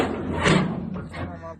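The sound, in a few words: door being closed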